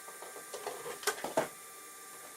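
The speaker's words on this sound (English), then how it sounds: "It's pretty hot in this garage, so I rigged up an old cooling fan" An old cooling fan whirs steadily in a hot garage with faint tonal hum, broken by scattered light knocks and clicks from nearby work.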